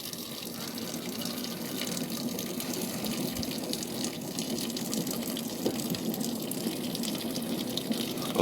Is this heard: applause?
no